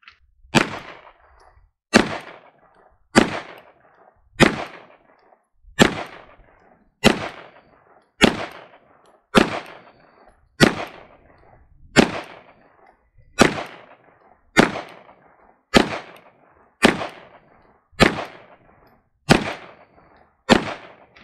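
An FN 509 pistol fires 115 grain Remington ammunition in a long, steady string of about seventeen loud, sharp shots, each roughly a second apart with a short echoing tail.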